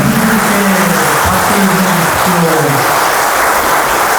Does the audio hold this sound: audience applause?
yes